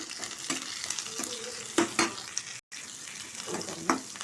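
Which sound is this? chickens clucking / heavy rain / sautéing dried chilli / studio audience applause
sautéing dried chilli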